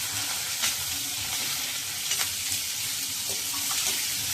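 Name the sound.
tomatoes frying in a pan for chutney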